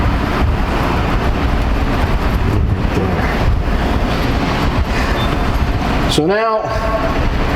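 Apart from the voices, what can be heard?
truck air ride suspension being dropped, releasing air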